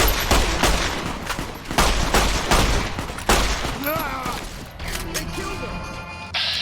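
Rapid rifle gunfire in Fallout: New Vegas, a run of loud sharp shots in quick bursts, with voices and other game sounds mixed in toward the end.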